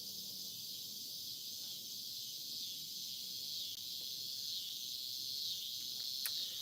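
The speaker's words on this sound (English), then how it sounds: "I'm just enjoying the sunset and the crickets, the cicadas. They're so loud I can't hear birds anymore." A dense, continuous high-pitched drone of crickets and cicadas fills the air, steady and loud with no voices.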